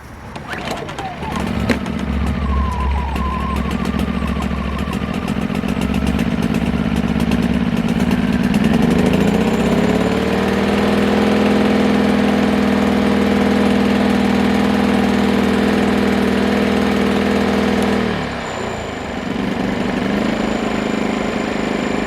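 A WEN 2000 inverter generator is pull-started without the choke and catches, its small engine settling into a loud, steady running drone that shifts pitch briefly near the end.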